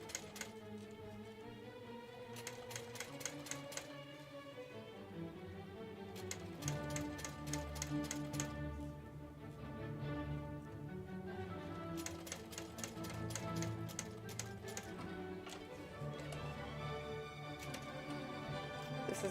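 A sewing machine top stitching a carry-all bag runs in quick bursts of rapid mechanical ticking, pausing and restarting several times, fairly quiet over a low background.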